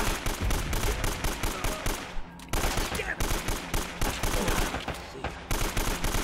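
Enemy gunfire rattles in Uncharted: Drake's Fortune, rapid automatic bursts in a steady loud rhythm with a brief lull partway through, no talking over it.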